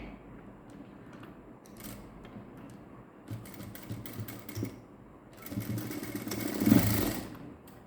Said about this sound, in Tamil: இந்த சென்டரில் நான் ஸ்டிச் பண்ணுறேன்